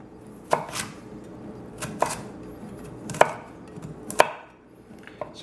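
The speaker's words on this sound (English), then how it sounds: "And you cut them nice and thin." Knife strokes through carrots cut into thin matchsticks on a cutting board, five or six sharp, distinct chops spaced about a second apart, close by, with a faint background hum and no talking.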